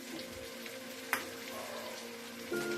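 Capsicum frying in a pan with onions for chilli paneer: a steady soft sizzle throughout, with a sharp clatter near the middle and a brief louder burst toward the end.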